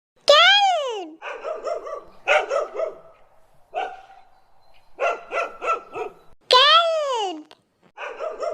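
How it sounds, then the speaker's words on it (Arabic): A dog barks in a children's animal sounds collection, short bursts repeating in quick clusters between long descending whinny-like calls, fairly loud and close with brief silences in between. "كلب"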